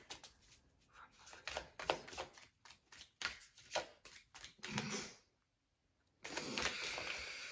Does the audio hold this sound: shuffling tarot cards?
yes